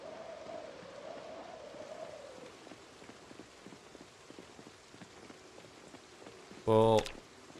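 Rain patters softly and steadily on surfaces in the survival video game Project Zomboid at a cabin in the woods, faint and close, with a brief louder in-game tone near the end.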